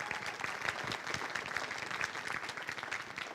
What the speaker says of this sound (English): So a round of applause to those organizations.